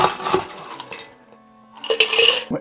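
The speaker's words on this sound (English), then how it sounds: "So next, we're gonna go add some ice to our shaker." Ice cubes clatter into a cocktail shaker for a keto margarita, two short bursts of loud rattling and clinking separated by a quiet pause.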